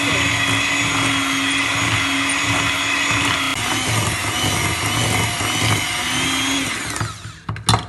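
An electric mixer whirs loudly and steadily while beating butter and sugar for a marble butter cake batter, then slows and stops near the end with a few clattering knocks.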